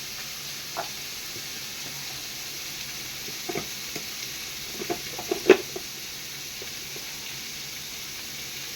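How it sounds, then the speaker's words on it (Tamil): Onion and garlic sautéing in a pan for a Madurai-style tomato chutney give off a quiet, steady sizzle, with a few soft scrapes and clicks of stirring standing out near the middle. No voices are heard. "வெங்காயம் வெள்ளைப்பூடு நல்லா வதங்கிருச்சு"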